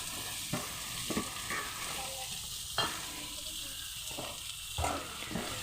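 Chopped drumsticks and washed potatoes frying in a pan, a steady low sizzle with several sharp scraping stirs of a spatula at irregular intervals, close and fairly quiet.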